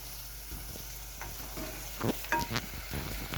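Diced fine ginger being stirred into a simmering tomato sauce in a pan, with a soft steady sizzle and a few scraping spoon strokes close by.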